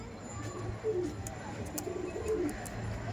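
Lal China pigeons, a male and a female, coo softly and repeatedly inside a loft, the low murmuring calls recurring in an uneven rhythm over a steady background hum.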